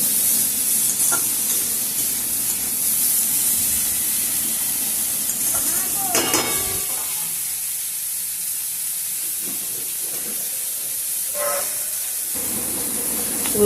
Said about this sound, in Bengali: উচ্ছেটা ভালো করে নেড়ে চেড়ে নিচ্ছি।